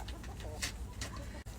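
Chickens clucking and cooing in a farm coop during egg collection, a rooster among them, with soft bird calls close by and a person speaking over them.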